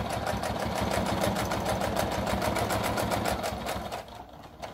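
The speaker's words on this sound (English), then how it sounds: "backstitching myself right there so that I don't go off of the pocket" Sewing machine backstitching along the edge of a fabric pocket on a makeup brush holder, a steady rapid needle chatter running close and loud throughout before easing slightly at the end.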